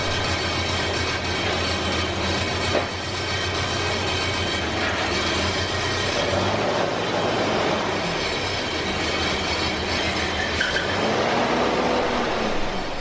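A running 1989 Isuzu Trooper with a high-mileage 4ZE1 engine, in for a rear main seal replacement, gives off a continuous mechanical rattle over a steady engine hum, close by and unbroken for the full stretch.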